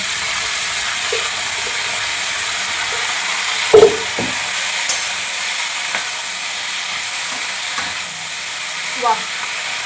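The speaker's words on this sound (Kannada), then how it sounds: "ಇದ್ರಾಗ ಕಟ್ ಮಾಡಿಟ್ಟಿದ್ದ ಪಲ್ಯ ಹಾಕಿ ಚಂದಂಗೆ ತಿರುಗಿ ಫ್ರೈ ಮಾಡೋಣ" Beetroot palya stir-fries in a pan with chili and paste, giving a steady, close sizzle broken by a few light clinks and scrapes of stirring.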